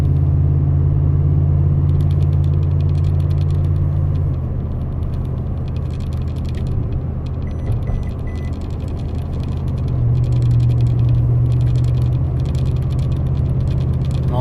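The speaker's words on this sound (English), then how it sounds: "hear the exhaust really kick in" A 2019 Toyota Tundra TRD Pro drives uphill through a neighborhood, its exhaust a loud, deep, steady rumble from inside the cab that swells and eases as the truck climbs.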